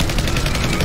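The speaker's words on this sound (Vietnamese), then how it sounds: "Một cuộc đua xe bắn súng như trong Fast and Furious diễn ra." Rapid gunfire crackles in quick bursts during a car chase in Batman v Superman, loud and dense across the short moment with no voices on top.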